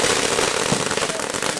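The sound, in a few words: strobe pot firework going off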